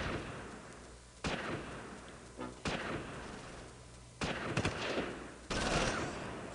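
Gunfire in the Close Combat Normandy war game, several sharp bursts and shots at intervals over a low battlefield rumble, fairly loud with no talk.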